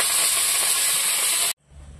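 Leafy greens hit a hot, oiled pan with a loud, steady sizzling hiss that cuts off abruptly, leaving a quieter low rumble of kitchen background.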